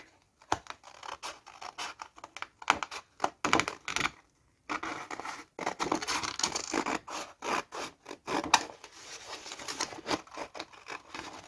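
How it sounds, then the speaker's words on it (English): Scissors cut out paper pieces for an envelope in irregular bursts of crisp snipping and rasping paper, with short pauses between cuts, close up and unaccompanied by talk. "And then I can cut this out exactly the same."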